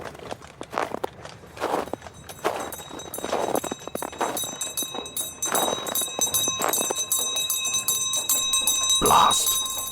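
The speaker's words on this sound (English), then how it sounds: "Why are you ringing that infernal bell?" A charity collector's handbell rings on a dark street on Christmas Eve, steady bright rings over crunching footsteps and a busy background.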